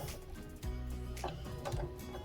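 A sewing machine backstitches at the end of a hoodie side seam, its motor running in a steady close whir with a low hum and a quick pause before it picks up again.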